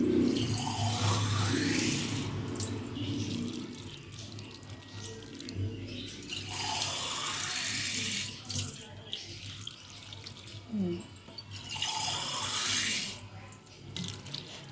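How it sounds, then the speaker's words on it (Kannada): Water pours into a cooking pot of cauliflower florets seasoned with turmeric and salt, in several separate splashing bursts close by, each a few seconds long, with quieter gaps between. "ಗೋಬಿ ಮುಳುಗೋಷ್ಟು ನೀರು ಹಾಕೊಳ್ಳೋಣ."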